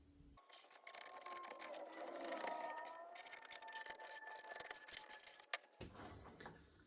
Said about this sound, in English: use something like an old screwdriver and clean that out